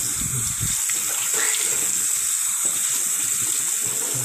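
Tap water running steadily into a sink while a child's face is washed, a close, constant hiss and splash with a brief low voice at the very start.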